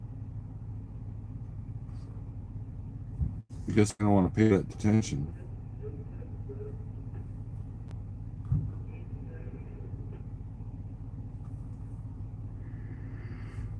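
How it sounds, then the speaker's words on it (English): A floor-loaded truck rumbles and shakes as it drives, a constant low drone running throughout, while someone talks in a short burst near the middle. "Man, this truck's shaking quite a bit for being floor loaded."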